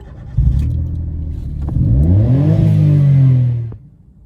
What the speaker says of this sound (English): I'm having some issues with starting of the vehicle as demonstrated.